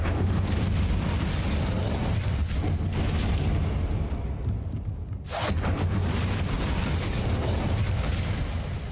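An Incendio fire spell in the video game Hogwarts Legacy erupts in a loud, roaring burst of flame that briefly dips, then flares up again and rumbles on with mechanical clatter.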